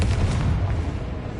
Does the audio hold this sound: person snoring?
no